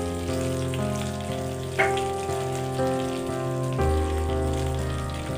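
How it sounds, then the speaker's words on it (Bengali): Cardamom, cloves, cinnamon, a chilli and bay leaf sizzle steadily in hot oil for a Bengali prawn and pointed gourd dish, a close, continuous crackle with a brief louder spit midway. "তো এই তেলের মধ্যেই আমি দিয়ে দেব ফোড়নের দুটো এলাচ, দুটো লবঙ্গ, দারচিনি, একটা লঙ্কা আর তেজপাতা"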